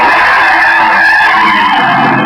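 Car tires screech in a loud, sustained skid as a driver swerves hard to miss a jaywalker on a city street, the squeal wavering and fading over about two seconds.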